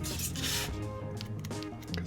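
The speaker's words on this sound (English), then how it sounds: "foam that's being gouged out" Foam being gouged and scraped with a carving tool while shaping fake rock, close rough rubbing and rasping strokes in quick uneven bursts with a few short scratchy scrapes, no talking.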